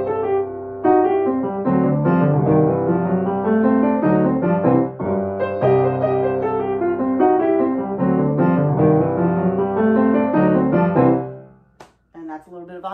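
Solo piano: a lively, busy run of chords and melody, played up close and loud, that stops abruptly near the end and leaves a few faint clicks.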